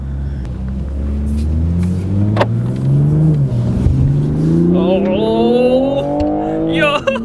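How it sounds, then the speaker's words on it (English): Toyota MK5 Supra engine accelerating on a wet mountain touge road, a loud close rising engine note climbing steadily in pitch with a sharp blip near the end. "And the car sounds really good too."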